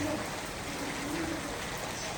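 Rain falling outside in the dark, with standing water nearby, makes a steady, dense hiss that fills the clip evenly and stays fairly loud throughout.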